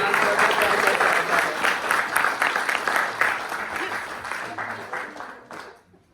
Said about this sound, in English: give a clap for, can we all clap around?